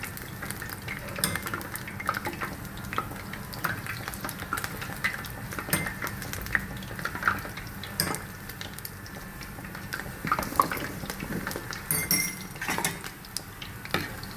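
A spoon repeatedly scrapes, stirs and turns sweet dumplings in a pan over a steady sizzle, with occasional light clinks of metal.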